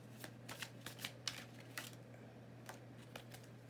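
Tarot cards riffle and slap together in a quick series of crisp, papery bursts, close and fairly quiet over a steady low electrical hum, with no voices.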